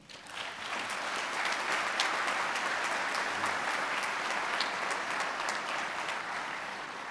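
Sustained audience applause at a spring commencement ceremony, a dense, steady wash of clapping from a large crowd that swells quickly and holds evenly throughout.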